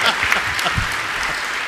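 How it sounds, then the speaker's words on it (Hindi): Audience at a Jain monk's spiritual question-and-answer discourse claps loudly and steadily for a brief moment, with a voice speaking faintly underneath. "बजाओ जोर से ताली।"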